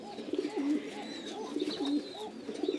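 A pigeon just taken out of breeding coos close by in three evenly spaced rolling phrases, each rising and falling, with no voices over it.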